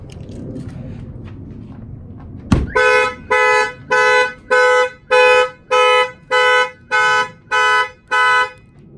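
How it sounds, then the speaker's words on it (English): A car alarm goes off loudly after a sharp click, then sounds a steady series of about nine evenly spaced, rhythmic electronic horn blasts. "Open any of the doors, the alarm will fire off."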